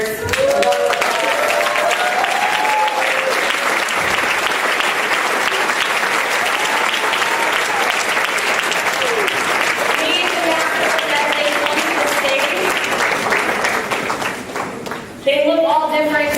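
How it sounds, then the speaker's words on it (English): An audience at a live event applauds ambassadors walking onto the stage, with loud sustained clapping from a large crowd that continues for many seconds before thinning out at the end. "Please give your ambassadors a warm applause."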